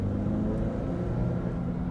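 A 2021 Ford Explorer's 2.3-liter base engine drones steadily under acceleration, a low, muffled rumble heard from inside the cabin, with no talk over it.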